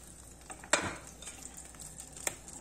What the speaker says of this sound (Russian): Сейчас буду укладывать обыкновенные драники